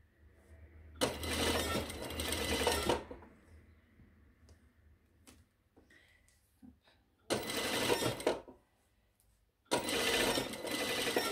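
A domestic sewing machine stitches a curved shirt hem in three separate bursts of loud, rapid whirring, with quiet handling of fabric in the pauses between runs.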